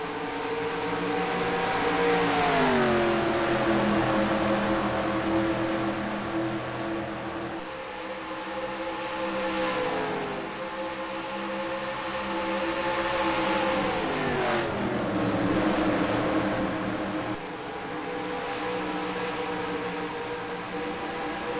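Stock cars racing at Lowe's Speedway in the NR2003 racing game, engines droning and rising and falling in pitch as cars pass and shift, steady and fairly loud with no talk.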